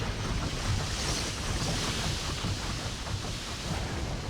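Water rushes and fills in the Riven (2024) game world, a steady, broad roar like surf or wind that runs continuously with no voices over it.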